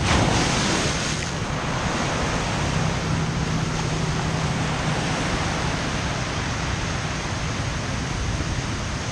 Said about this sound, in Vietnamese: Gần bờ kè nên là sóng nó dập vô mạnh hơn.